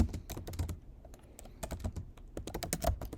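A computer keyboard clicks in quick, uneven runs as a question is typed, close and fairly quiet, with no voices.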